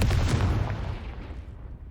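A Bombarda or Confringo spell explodes in the Hogwarts Legacy video game: one loud, heavy boom that rumbles and fades away over about two seconds.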